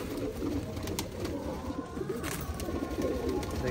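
Pigeons of a prized breeding pair cooing steadily at close range, soft throaty coos repeating over a constant background murmur, with no voices.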